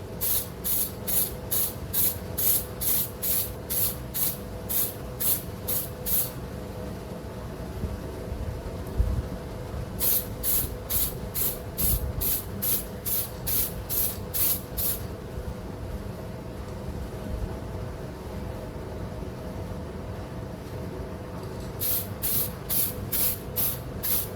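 Light undercoat sprayed from a spray can in repeated short bursts, a steady rhythmic hiss pulsing in three groups with pauses between, close and fairly loud over a low background hum.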